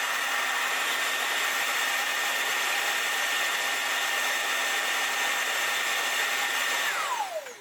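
A robot vacuum's docking station empties it with a steady, loud mechanical whir, then its pitch drops sharply as it winds down at the end.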